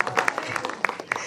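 Brief, scattered hand clapping from a small group at a movie trailer launch, a few uneven claps lasting about a second.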